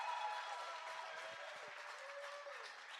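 Faint, distant applause from an audience at a live-streamed community gathering, a soft continuous patter of clapping with a thin tonal hum running through it.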